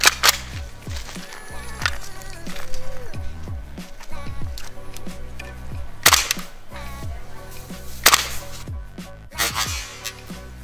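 A GHK OTS-14 Groza gas-powered airsoft rifle fires a rapid series of sharp cracks with quick gas bursts, several shots in close succession, loud and near, with no talking.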